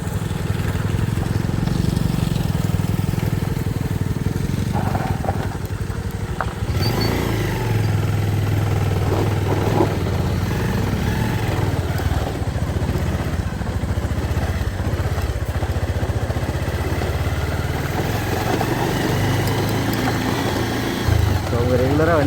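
A Pulsar motorcycle rides a mountain road to a hill village, its engine a continuous loud drone with wind buffeting, steady throughout, with a voice talking over it.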